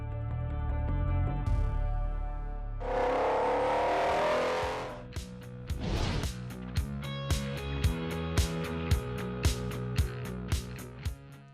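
Lamborghini Sian Roadster with a big V12 engine, a deep sustained roar building to a loud rev, then a series of sharp rhythmic pops and crackles, close and with no voices.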